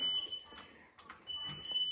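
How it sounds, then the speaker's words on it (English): A smoke alarm chirps a thin, high-pitched beep on and off, fairly faint, over soft household clatter. "get the smoke detector"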